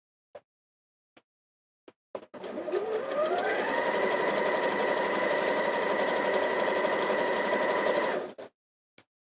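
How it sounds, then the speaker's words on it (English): A sewing machine stitching fabric strips together in one long steady run of about six seconds, winding up in pitch at the start, with a few sharp clicks before and after. "we sew our first strips together"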